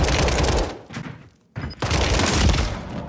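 Rapid automatic gunfire in Warzone 3 comes in two loud bursts, with a short near-silent gap in the middle and scattered quieter shots just before it.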